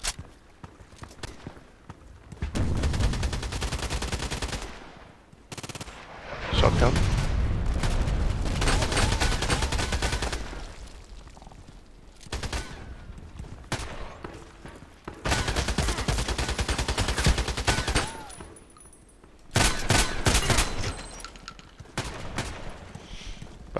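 Automatic shotgun fire in a shooter video game comes in long dense bursts of rapid blasts, several sustained volleys separated by brief quieter gaps, loud and close.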